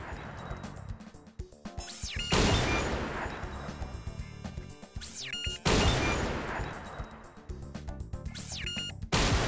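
Two sharp, loud sniper rifle shots from the Silent Scope video game, several seconds apart, each followed by a bright ringing sweep and a decaying rumble, amid busy game noise.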